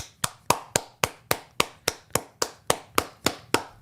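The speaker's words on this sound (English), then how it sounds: "This is 15 claps." Fifteen hand claps in a quick, even rhythm, each one sharp, close and loud, with no other sound between them.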